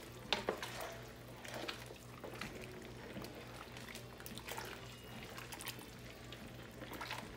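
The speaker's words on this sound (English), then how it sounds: "Give it a stir." A pot of vegetarian Haitian soup joumou is stirred, with soft liquid sloshing and spoon scrapes at an even, moderate level, a few sharper clinks near the start.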